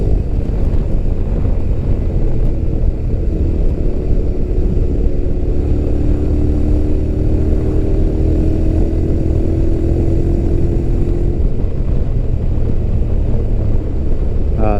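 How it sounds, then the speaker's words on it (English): A Honda X-ADV 750 scooter weighing 238 kg, ridden on the road, revs out with a rising engine drone that is partly buried under loud, constant wind buffeting on the microphone. "Just rev it out a little bit."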